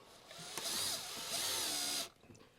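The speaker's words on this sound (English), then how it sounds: "So let's go ahead and we'll get these tightened down." A power tool tightens air conditioner mounting bolts on the roof of a 2002 Freightliner RV during installation, a close whirring burst of about a second and a half that stops abruptly.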